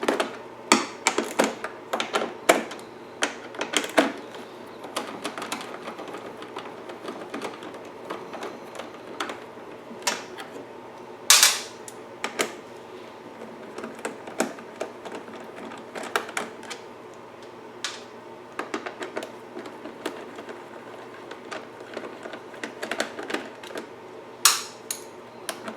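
Four bolts are removed from the heat shield of a Wen 6800W generator, heard as a dense run of sharp, close metallic clicks and ratcheting ticks, with occasional louder clanks of tool or part.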